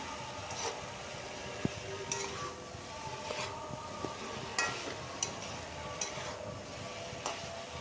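Potatoes, yard-long beans and boiled eggs are stirred and sautéed in a thick spice masala, giving a steady low sizzle with occasional clinks and scrapes of a spoon against the pan, fairly quiet and without talk.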